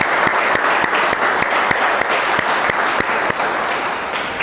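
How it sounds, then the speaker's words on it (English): Students clapping in a school classroom, a steady close burst of many hands with a few sharper individual claps standing out, continuing for several seconds without talk. "Please clap for Sweetie."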